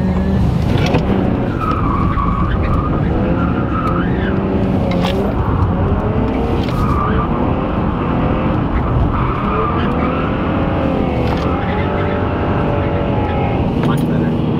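A car with a six-speed drifts, its tyres skidding and squealing in repeated bursts over a loud engine roar, with people talking and shouting throughout.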